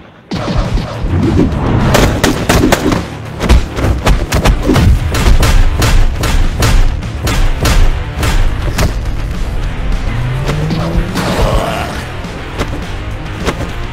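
Dense gunfire in an animated drama battle, rapid loud shots and booms firing almost nonstop for the whole stretch, with shouting voices mixed in at times.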